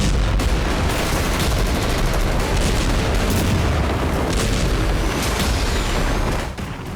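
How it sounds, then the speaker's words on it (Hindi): Heavy aerial bombardment in the Israel–Hamas war: a dense, loud, continuous barrage of overlapping blasts and rapid gunfire-like cracks lasting several seconds without pause. "आसमान से जबरदस्त बमबारी, जमीन पर विध्वंसक ग्राउंड ऑपरेशन।"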